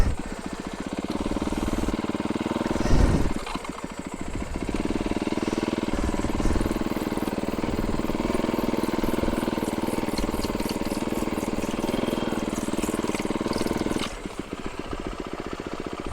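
An engine with a blown bearing runs steadily and roughly, a loud, continuous droning rattle close by with a couple of brief dips and surges in tone.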